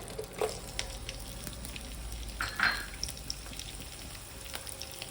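Green chillies fry and are stirred in a pan for chickpea sundal, giving a steady, close sizzle with a few soft spoon scrapes and light clinks and no talking.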